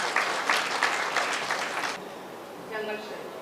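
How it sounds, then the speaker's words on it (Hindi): Applause from an audience at a Good Friday children's event after a spoon race prize announcement, a dense burst of clapping for about two seconds that cuts off, followed by a faint voice. "ताली बजाते हैं।"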